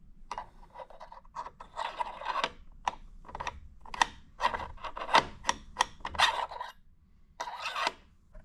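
Small metal trier threading onto an Allio Bullet R2 Pro coffee roaster, giving a run of close, quick scraping and rubbing clicks in short irregular bursts, with a brief pause near the end.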